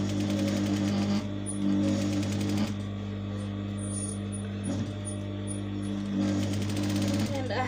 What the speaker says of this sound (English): So we are going to stitch to join the two pieces of fabric together, and we are stitching on the wrong side.